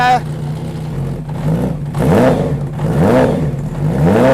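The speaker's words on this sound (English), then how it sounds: "that thing will deafen you with that megaphone exhaust on there" A Westfield sports car engine revs repeatedly in rising and falling surges, loud and throaty through a heavy megaphone exhaust, with voices faintly underneath.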